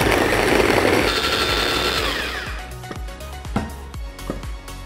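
Electric chopper grinding shallots, garlic and balado spices into a paste: a loud, dense whirring buzz for about two and a half seconds, then it winds down, leaving scattered light knocks and clatter.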